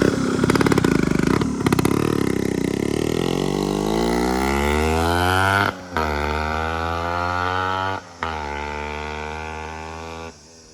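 A Yamaha RX135 motorcycle engine revs hard up close, its loud droning pitch climbing steadily, broken by two brief dips like gear shifts.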